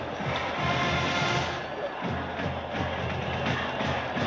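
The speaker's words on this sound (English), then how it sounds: "Notre Dame fans cheering for Florida State in this situation." Notre Dame fans at the 1994 Orange Bowl national championship game cheer for Florida State, a large stadium crowd roaring steadily throughout.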